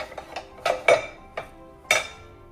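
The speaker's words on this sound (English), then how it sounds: "Place my Meissen bowl back" A Meissen porcelain bowl set down on a baking counter in a dining room, giving a handful of short, bright clinks and knocks at close range, with no talk.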